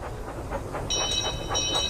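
Toby the tank engine puffs in with his coach Henrietta in a video game, with rhythmic steam chuffs over a low rumble and a thin whistle-like tone joining in.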